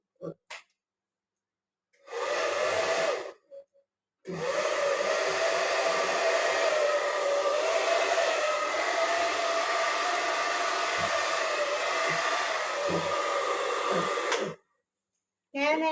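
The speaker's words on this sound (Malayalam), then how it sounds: "മുടി ഡ്രൈ ചെയ്യണം" A hair dryer blows steadily on someone's hair at a beauty session, a loud continuous whirring roar running about ten seconds after a couple of short bursts, then cutting off.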